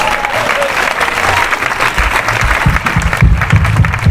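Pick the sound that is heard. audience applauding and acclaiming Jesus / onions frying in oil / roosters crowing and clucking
audience applauding and acclaiming Jesus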